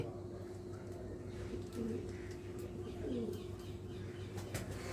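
Red Cheena pigeons from Pathankot coo in soft, low repeated calls beneath a steady background hum, while someone talks nearby almost throughout.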